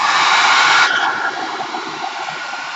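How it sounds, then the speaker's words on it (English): A hair dryer blows steadily on glue spread on both surfaces before they are stuck together, a loud, close broadband whoosh that drops slightly in level about a second in and keeps running. "I got glue on both sides, I'm gonna take a hair dryer."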